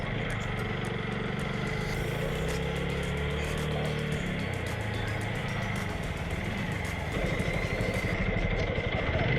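A motorbike engine runs steadily and close by as the rider pulls into a parking area at a station gate below Chandragiri Hills, Kathmandu, a continuous mid-pitched drone with a short idling stretch near the end.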